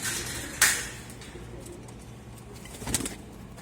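Pigeons and their chicks in a loft, with a sharp flutter or rustle near the start and another burst near the end over a low, steady background, close by.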